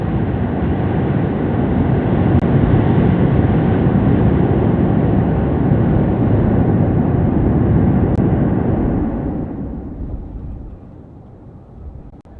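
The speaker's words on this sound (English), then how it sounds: "14 Raptor 2 engines were fired for 10 seconds." SpaceX Booster 7 fires 14 Raptor 2 engines in a static fire, a loud continuous roar rumbling steadily for about nine seconds before fading away into distant residual noise.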